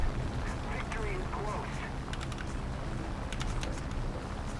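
Duck quacks heard during War Thunder gameplay, a few short nasal calls over a constant droning engine and mechanical background noise.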